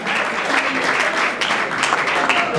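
An audience at an awards ceremony applauds an artist with dense, steady clapping from start to finish, loud and close, with faint voices mixed in.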